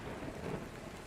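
A dense wash of torrential rain hisses steadily with a low rumble of thunder underneath, forming an even, enveloping storm ambience with no voices.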